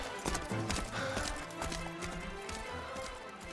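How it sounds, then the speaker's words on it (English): Horse hooves clip-clop in Dragon Quest XI, a steady galloping patter running throughout, mixed with game music and other effects at fairly loud level. "Commandeering his goddamn horse."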